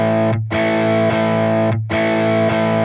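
A guitar tone model on a Tonex pedal with input set to +8 rings out as thick, saturated distorted chords, struck in a steady rhythm with brief gaps between strums, loud and up front.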